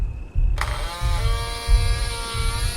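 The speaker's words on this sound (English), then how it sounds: "The door slowly opened." A slow door-opening sound effect in a spooky Halloween audio drama: a drawn-out mechanical creak with a ratcheting, grinding texture over a low rumbling background, close and fairly loud.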